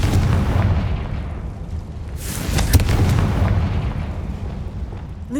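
A Confringo blasting spell detonates in the Hogwarts Legacy video game, a loud booming explosion burst around the middle over a dense, rumbling background of game sound.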